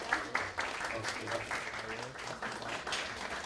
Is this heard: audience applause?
yes